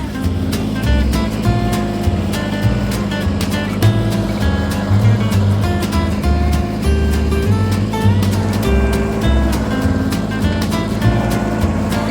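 A tractor's heavy engine drones steadily with a deep, chugging rumble while packing snow on a gravel driveway, loud and close, holding a constant pace throughout with no talking.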